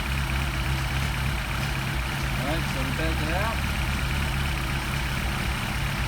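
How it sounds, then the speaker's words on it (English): A Mercedes 190SL engine with Solex carburetors idles steadily and loud throughout, its low rumble continuous as the RPM sags slightly, with someone talking over it. "Engine RPM is dropping."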